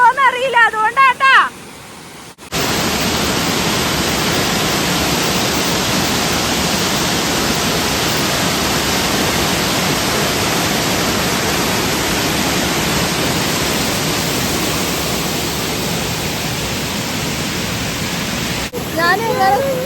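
Vattayi waterfall in Thrissur, Kerala roars as a loud, steady broadband rush of falling water, continuous for most of the stretch, with a voice speaking briefly at the start and again at the end.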